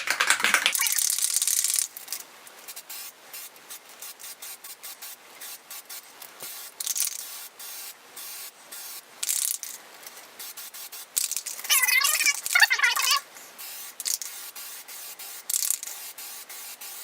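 Short hissing bursts of Plasti Dip aerosol spray coat an ASUS laptop held by hand, a strong blast at the start followed by repeated brief, lighter sprays with gaps between them.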